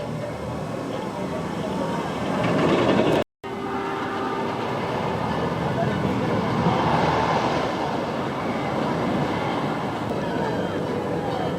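A Diamondback roller coaster train at Kings Island runs along its track: a loud, steady rumble and roar of wheels with one brief cutout, and faint voices mixed in.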